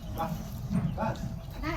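A dog gives a few short yips and barks, about three in a row, at moderate loudness against background noise.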